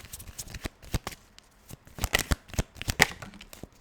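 Tarot cards are shuffled and drawn, a run of close, crisp riffling bursts and soft slaps in an uneven rhythm with brief pauses between them.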